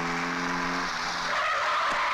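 A car brakes to a sudden stop with its tires skidding: a sustained squeal that breaks into rough scraping noise as the car halts, loud and close, with no voices.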